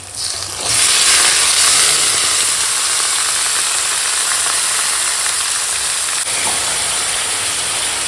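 Marinated chicken coated in ginger, garlic and yogurt hits hot oil with fried onions and bursts into a loud, steady sizzle that starts abruptly and holds on as a continuous close hiss.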